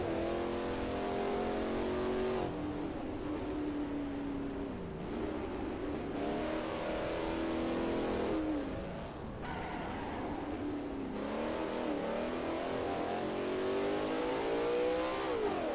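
A Mercedes race car in Assetto Corsa laps the 1939 Eläintarhanajot circuit in Finland, its engine droning and revving steadily with rising and falling pitch through gear changes, loud and continuous with no talking.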